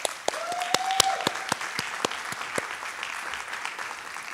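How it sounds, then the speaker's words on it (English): A round of applause from the audience at a Pequannock Township school board meeting, with brisk, fairly sparse clapping and a few sharper claps standing out, steady for several seconds in a large room. "So I think we should give you a round of applause."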